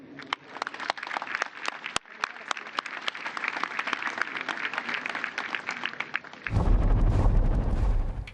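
Sustained crowd applause at a ceremony after names are announced, steady and full throughout, then swelling into a louder, denser roar of clapping and cheering near the end.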